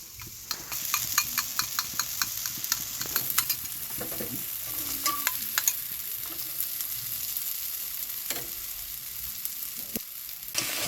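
Spice paste sizzles steadily in a hot pan, with frequent scraping stirs and light clinks of the spatula throughout; the dish is a vegetarian pointed gourd preparation with mustard-poppy paste and chhana filling. No one speaks.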